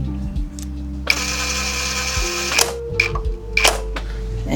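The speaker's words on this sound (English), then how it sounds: "for this part, I'm just gonna use the impact driver, just because I'm lazy" An impact driver removes the brake caliper bolts on a Triumph Trident 660 motorcycle, with loud, close whirring and hammering bursts of about a second each, broken by brief pauses and clicks.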